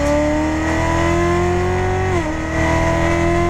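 A Chevrolet Corvette C7 Z06 engine drones steadily at speed on a race track, its pitch climbing slightly before dropping sharply with a shift, then resuming its loud, close roar.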